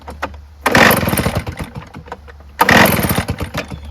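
Husqvarna 580BFS backpack leaf blower engine failing at full throttle: a small two-stroke idles, then twice surges into a loud rough roar that sags and stumbles back down, close and without talking.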